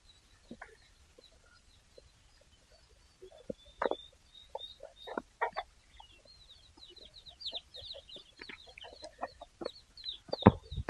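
Chickens and chicks on a farm clucking: scattered soft clucks and chirps, sparse at first, then denser and busier, close by, with no talk.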